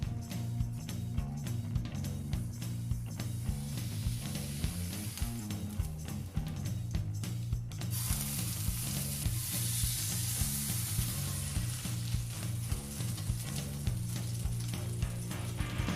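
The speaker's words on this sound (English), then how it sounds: "Then slowly sear the outside of the pork." Pork sears slowly in a hot pan, producing a continuous crackling sizzle with scattered pops and occasional stirring scrapes, loud and close for the whole stretch.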